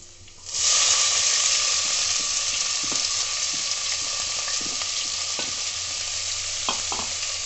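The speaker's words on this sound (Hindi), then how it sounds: "प्याज को मीडियम फ्लेम पर हम इसको भूनेंगे" Chopped onions hit a hot pan over medium flame with a sudden loud sizzle that settles into steady frying, with occasional stirring scrapes.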